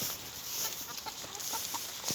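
Chickens cluck in short, scattered calls over a steady background hiss, several birds close by at feeding time, with no talking.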